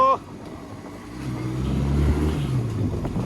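A Yamaha RX 98cc motorcycle ridden along, its low droning engine rumble building after a short voice at the start, with some wind noise over the microphone.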